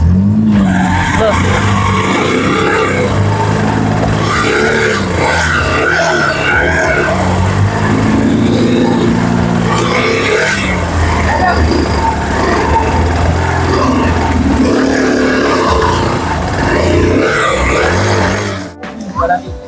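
Honda and Suzuki motorcycles run in a power test, with continuous loud engine roar and revving close by and voices talking over the noise throughout, until a sudden drop near the end.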